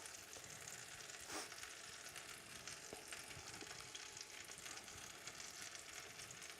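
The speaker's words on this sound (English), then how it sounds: "You can hear it sizzling away there lovelyly." Soaked vegan French toast sizzles in a frying pan with a steady, quiet crackle and an occasional sharper pop, with no voices present.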